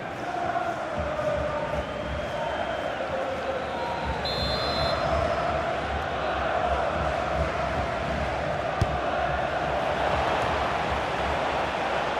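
Stadium crowd noise from a FIFA 16 Premier League match, Watford against Crystal Palace, a steady broad roar of cheering fans that holds at an even level throughout, with a brief whistle-like tone partway through.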